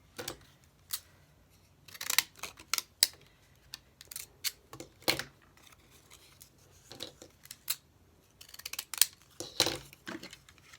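Scissors trimming paper ephemera for a palmistry journal, a series of crisp close snips and paper rustles in irregular bursts with short pauses between them.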